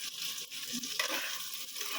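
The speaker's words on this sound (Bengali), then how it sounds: "চালটা একটু ভাজা ভাজা করে নেব" Raw rice is stir-fried in a pan with whole garam masala and bay leaves, giving a soft, steady sizzle with light scraping stirs, fairly faint and close.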